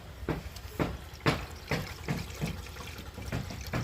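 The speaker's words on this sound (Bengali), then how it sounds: "এখন আমি এই কড়াইয়ের মধ্যে দিয়ে দেবো অল্প কিছুটা জল।" Water from a tap splashes into a wok, a soft series of rhythmic gushes and slurps heard close by and fairly faint.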